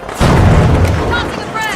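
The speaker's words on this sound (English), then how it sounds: "eliminated contestants will go kaboom" A player being eliminated explodes in the video game The Finals, a loud booming blast that swells in and rumbles on with a tail of lighter game effects, heard close up with no one speaking.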